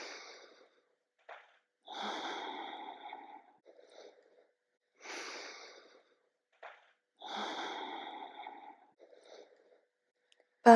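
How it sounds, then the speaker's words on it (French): A person doing yoga takes deep, long breaths through the nose. Slow inhales and exhales alternate in a steady rhythm, each lasting a second or two, heard up close with quiet pauses between them. "maintenez une respiration profonde et longue"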